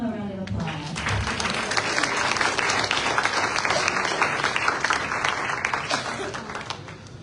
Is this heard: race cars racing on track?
no